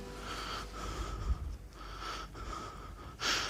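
An animated character breathes heavily, with rasping, wheezing inhales and exhales that rise and fall in slow waves, close and fairly quiet, ending in a sharp snort.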